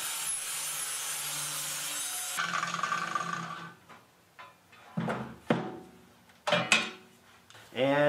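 Metal parts held on an electromagnetic grinding station are ground with a steady, loud, harsh rasp for about two seconds, then tapering into scattered scrapes, knocks and short clanks as work continues.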